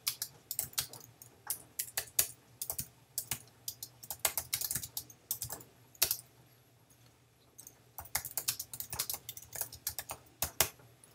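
Quick, irregular keyboard typing clicks steadily at close range, with brief pauses between bursts of keystrokes over a quiet background hum.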